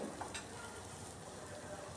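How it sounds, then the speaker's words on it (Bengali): Pieces of cabbage, first steamed in hot water, frying hard in oil in a kadai, giving a continuous close sizzle and crackle with no talk. "এভাবে ভেজে নামিয়ে নিচ্ছি এগুলাকে এবার ওই তেলের মধ্যে বাকি পিসগুলো দিয়ে দিচ্ছে বাঁধাকপি"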